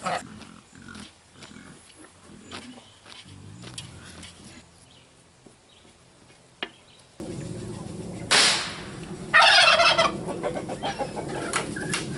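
Geese and ducks on a hobby farm honking and squawking, scattered calls at first and then louder, denser bursts of noisy cries toward the end.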